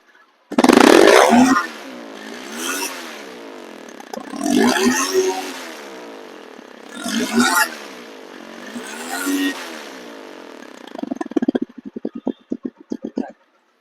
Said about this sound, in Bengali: এই ফ্রেশ বাইকটি আমরা এখন স্টার্ট করে দেখাবো